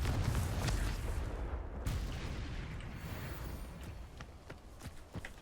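A Confringo fire spell cast in Hogwarts Legacy on hard mode: a loud booming burst that slowly fades, followed by scattered sharp cracks and impacts.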